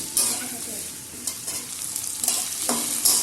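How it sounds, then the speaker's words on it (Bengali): Potatoes and cauliflower frying in a pan for vegetarian chow mein, a steady close sizzle broken by several scraping stirs of a spatula, with no one talking. "আলু আর ফুলকপিটা একটু ভেজে নেব।"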